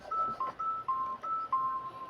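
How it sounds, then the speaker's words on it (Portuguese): A mobile phone chiming with a burst of notifications, repeated two-tone electronic beeps in a steady alternating pattern, clear and close. "E o meu celular começa a tocar."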